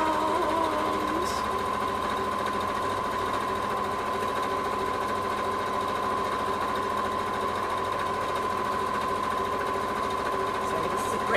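Sewing machine stitching around the underarm seam of a kimono-style wrap top, a steady close mechanical whirr with a constant hum, running without pause throughout.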